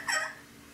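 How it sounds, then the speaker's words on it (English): Wild turkey gobbling near a bean field, a single short burst heard at a distance and fading quickly into a quiet outdoor background. "we heard one gobble"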